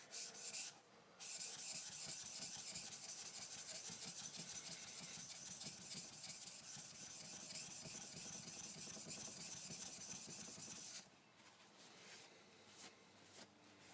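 A sharpening stone is flattened by steady back-and-forth rubbing, a close, rasping grind that runs for about ten seconds before dropping off to quieter scraping.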